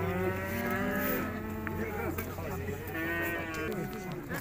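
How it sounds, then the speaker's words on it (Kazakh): A cow moos at the Urzhar livestock market, a long, loud, low call that holds steady for several seconds over a murmur of voices and market noise. "Үлкен сиыр екен."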